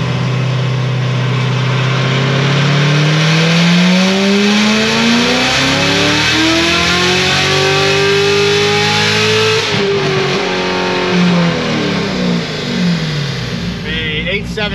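A Magnuson-supercharged 2015 Corvette C7 Z06 on a chassis dyno with stock tires, its engine revving up in one long loud sweep to a high-pitched scream, then holding near the top with supercharger whine, very close and dominating.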